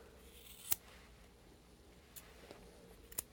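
Scissors trimming a poodle's fur around the chin and face during an Asian-style grooming makeover: three quiet, sharp snips spaced across a soft, hushed room with no talking.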